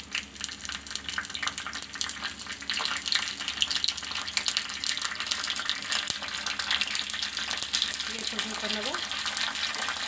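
Water runs and splashes steadily from a tap in a kitchen during cooking. The stream is a constant, fairly close hiss for about ten seconds, while a voice speaks briefly over it.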